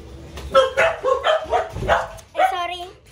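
A household dog barks and yips in a quick series of close, loud barks, followed by a higher whimpering yelp, with faint room noise underneath.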